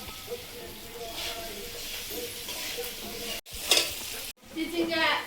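Snake gourd frying in a pan with potato, spices and salt, giving a steady close sizzle stirred now and then, with two brief cuts and a louder hiss near the end.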